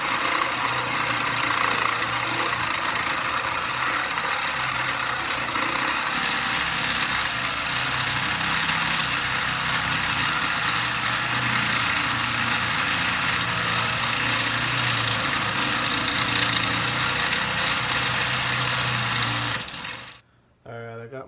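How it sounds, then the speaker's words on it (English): Step drill bit boring out a hole in metal while building a bolt-on detachable steering wheel for a Jeep YJ, a loud continuous grinding drone holding steady for about twenty seconds before cutting off abruptly near the end. "We're going to use the step bit and step it out now."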